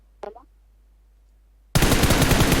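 Gunfire in the mobile game PUBG Mobile, beginning with a brief faint sound and then a loud, dense burst of rapid automatic fire that continues to the end.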